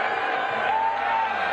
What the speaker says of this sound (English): Oh, people are booing.